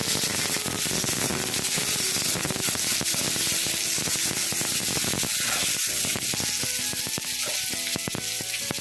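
Potato dhokla frying in hot mustard oil in a wok, a steady loud sizzle and crackle with scattered pops, continuous and close with no talk.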